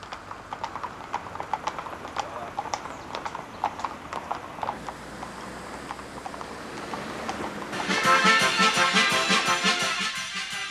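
Horses' hooves clip-clop in a steady, busy rhythm on an early-morning training ride out from a Swiss circus, several animals moving together; toward the end a louder, broad rushing sound swells over the hoofbeats.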